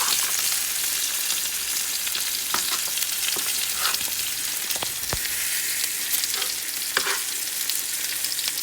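Butter and oil sizzle steadily in a hot pan while a tomahawk steak is basted with garlic, oregano and thyme. A dense, continuous frying hiss carries a few sharp crackles and pops and no talk.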